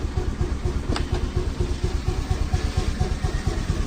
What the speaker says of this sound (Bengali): আমি স্টার্ট করেও দেখে দিচ্ছি দেখো ইঞ্জিনের সাউন্ড শুনলে বুঝতে পারবে